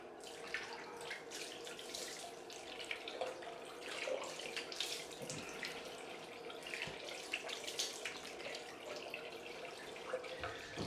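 A razor is rinsed under a running bathroom tap after a head shave, a steady rushing splash of water with small shifting gurgles throughout.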